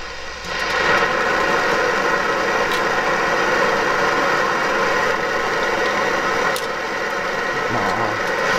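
An Optimus Svea 123R liquid-fuel camping stove fitted with a QuietStove burner roars at full flame, a steady loud broadband rush with a slight vibrating hum, continuous and close throughout.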